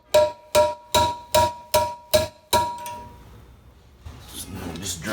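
A part is driven into its bore in a 4L60E automatic transmission during a rebuild: seven sharp, evenly spaced metallic hammer blows ring out close by, followed by quiet handling noises and rustling.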